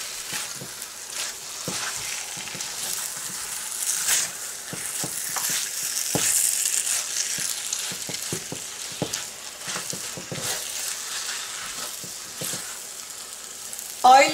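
Makhandi halwa roasts in a pan as oil begins to separate, with a soft, steady sizzle broken by repeated scraping strokes of a stirring spoon.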